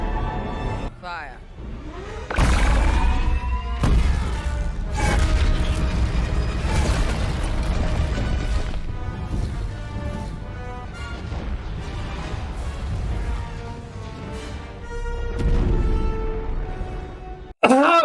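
A Xyston-class Star Destroyer superweapon fires in Star Wars with a series of heavy booming blasts, metallic crashes and a roaring energy surge, loud and continuous for most of the stretch.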